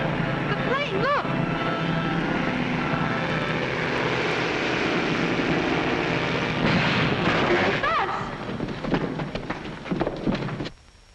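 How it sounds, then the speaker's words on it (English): A propeller airplane drones loudly and steadily overhead, its engine roar filling the scene with music and voices layered above it, then cutting off abruptly near the end. "The plane, look!"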